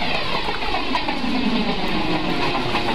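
A simulated Indian Railways express hauled by a WAP4 electric locomotive overtakes on track in Microsoft Train Simulator. It gives a steady, dense rolling rumble with wheel clatter and a broad hiss that holds constant throughout, with no voices.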